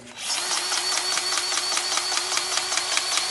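A DeWalt battery-powered grease gun pumps grease into the track tensioner of a Bobcat skid steer, a loud close motor whir with a rapid, even pulsing rhythm throughout.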